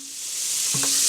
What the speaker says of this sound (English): we're going to add some garlic in there